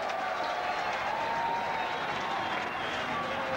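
Cricket crowd at a 1991 one-day international between Sri Lanka and New Zealand applauding and cheering a boundary, a steady distant wash of clapping and crowd noise.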